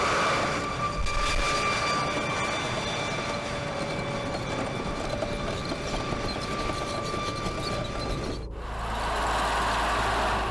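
An M1 Abrams tank's gas turbine engine runs with a steady, loud whining roar and layered hum, broken by a brief cut near the end before the drone resumes.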